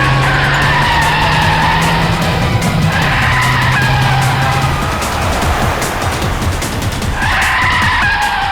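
A car whose brakes have failed skids loudly, with long screeching tire squeals that swell and fade over several seconds. An engine drones underneath, the scene is dramatic and no voices are heard.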